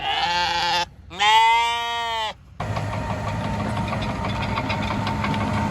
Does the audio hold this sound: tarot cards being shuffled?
no